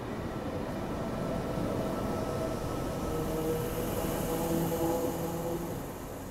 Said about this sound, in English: So the train's gonna go over there and slow down.